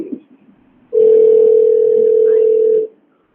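A steady telephone tone on a conference line call holds loud and unbroken for about two seconds, followed by silence, with faint room noise just before it.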